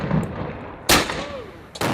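A cannon fires case shot at an English Civil War commemoration reenactment, two sharp, loud, close blasts about a second apart over outdoor crowd murmur.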